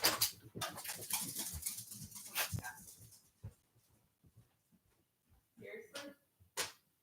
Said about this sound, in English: Oh my gosh, my dog.